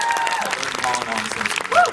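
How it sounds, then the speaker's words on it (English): An audience at a Q&A event gives a short, close burst of applause lasting about two seconds, with scattered voices mixed in. "can we give a round of applause to Jordan and Ellen, because they did a fant"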